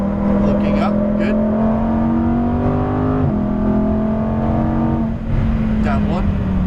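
A 2018 Lamborghini Huracan Performante accelerates hard on a racetrack, its engine rising in pitch through the gears with quick drops at upshifts, loud and close beneath an instructor's coaching voice.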